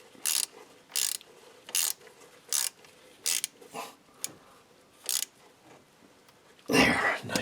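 A hand ratchet tightens the bolts of a Ford F150 4WD actuator (IWE) in a crisscross pattern, making short, evenly spaced bursts of close clicking, then a louder final burst.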